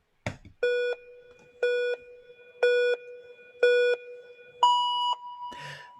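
A timer in the Kyma sound-design environment gives four identical mid-pitched electronic beeps about once per second, then a fifth, higher and slightly longer beep, clear and close with no talking.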